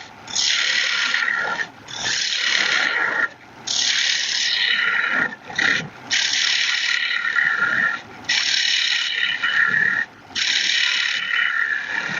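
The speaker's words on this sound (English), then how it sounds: "So now I'm just going to kind of remove this waste material up here and then we'll work on hollowing." A wood lathe turns a vase blank while a cutting tool strips away waste wood, giving a loud, rasping, chattering scrape in repeated passes separated by short pauses, with no talking.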